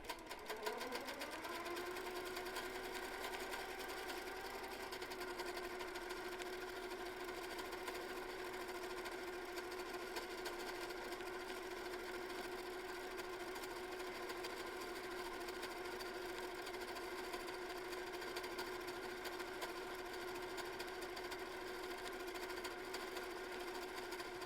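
A sewing machine runs steadily while stitching a flower quilt block, a continuous even mechanical whir with a constant pitched hum from start to finish, close and unbroken.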